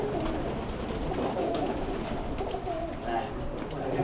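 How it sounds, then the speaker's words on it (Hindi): Ferozpuri pigeons coo in a loft, a low, steady murmur of overlapping calls close by, with soft rustling and faint background noise throughout. "जी अहमद भाई कौन से कबूतर का शौक करवा रहे हैं?"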